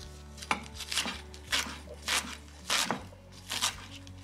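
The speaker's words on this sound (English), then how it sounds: "We've got some fresh spinach here. I'm just gonna chop it." A knife chops fresh spinach on a cutting board in a home kitchen, about half a dozen distinct, irregular thuds with crisp leafy crunches between short pauses, close and moderately loud.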